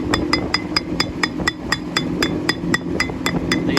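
Sharp metallic hammer blows drive a pilot bearing into a Hesston 680 tractor flywheel during clutch repair, about a dozen evenly spaced strikes ringing close and clear over faint wind.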